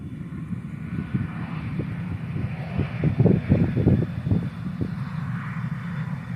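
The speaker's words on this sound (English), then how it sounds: "We got the E-175 taking off here." An Embraer E-175 airliner taking off at Tucson International Airport, a deep rumbling engine roar that swells to a peak midway then eases, heard from a distance through a fence, with no talking.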